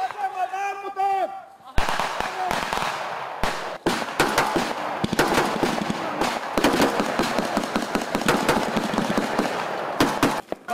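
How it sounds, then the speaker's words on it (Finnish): Gunfire rattles through a military exercise with Finnish, Swedish and US Marine troops, as dense crackling bursts of rapid shots go on almost nonstop while voices shout over the shooting. "Vasemmalle ammutaan!"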